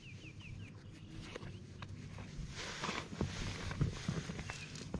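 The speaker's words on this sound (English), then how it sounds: "Birds chirping," Birds chirp faintly outdoors by a calm lake in Baxter, Minnesota. A few thin calls sit early over a low background of rustling and soft footsteps, with no one talking.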